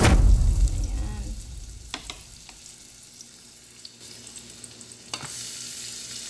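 Onions fry in a pan for ginisang monggo, starting with a loud burst of sizzling as they hit the hot oil. The hiss then settles into a steady fry with occasional utensil clinks, and no one talks.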